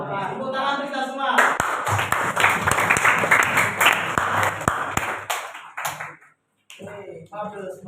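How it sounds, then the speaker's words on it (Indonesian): Classroom applause from students after a lesson presentation, a few seconds of dense clapping with sharp individual claps standing out, preceded and followed by a speaking voice. "Tepuk tangan kita semua."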